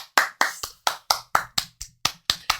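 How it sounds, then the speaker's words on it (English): Eleven sharp, evenly spaced hand claps from a single clapper, close and dry, at a quick steady rhythm with no voices. "clap for Devin"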